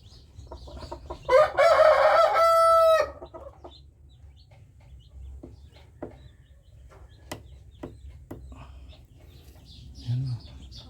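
A chick peeps from inside a Brahma chicken egg close to the microphone, a burst of shrill repeated chirps early on, then a few faint scattered sounds with low background rumble and a quiet voice near the end.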